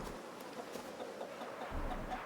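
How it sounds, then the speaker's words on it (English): Chickens clucking in the snowy farmyard of the video game Gerda: A Flame in Winter, soft scattered clucks that are fairly faint and sit over a low rumbling background, with no talk. "There's the chickens."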